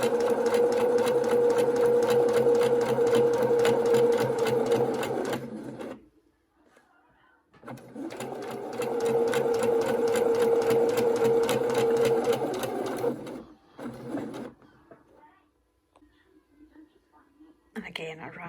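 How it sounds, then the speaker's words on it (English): A sewing machine runs along the seam of a homemade fabric face mask, stitching elastic in place: two long, steady whirring runs of about five seconds each, separated by pauses, with a brief burst near the end, close and loud with no talk. "I'm now going to run down the rest of the seam to the other end where I'll catch the other elastic and do the same thing"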